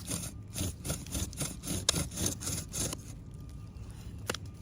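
A bow drill's wooden spindle grinds into a wooden board during the burn-in, making a raspy back-and-forth rubbing in quick strokes. It is close and moderately loud, then stops before a single sharp knock near the end.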